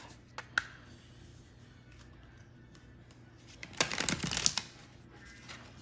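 Stiff tarot cards are shuffled in one close, crisp riffling burst of about a second, after a few faint taps in an otherwise quiet room.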